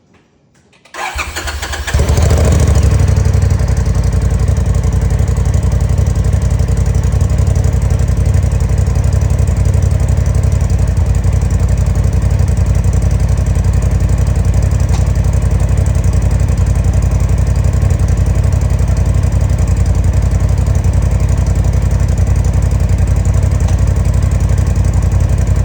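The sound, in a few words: 2021 Polaris RZR Turbo S stock exhaust startup idling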